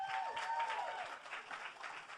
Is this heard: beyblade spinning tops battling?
no